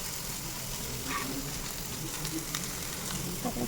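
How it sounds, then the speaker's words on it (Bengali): Onion frying in a pan over a medium gas flame, a steady dense sizzle held close and loud throughout, with a few faint scrapes of stirring. "এরপর পেঁয়াজটা দিয়ে দিলাম"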